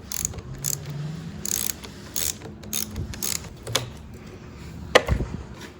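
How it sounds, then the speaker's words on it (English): Ratcheting clicks and metallic mechanism sounds from a 10mm socket wrench breaking loose the clutch lever bolt nut on a 2015 Triumph Street Triple R motorcycle, in short close bursts with a sharp clank near the end. "We're gonna just hold down the top part of this bolt, break that nut loose."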